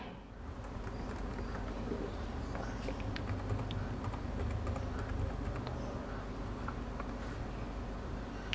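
A computer keyboard clicks in a faint, steady run of keystrokes as a password is typed, with no voices over it.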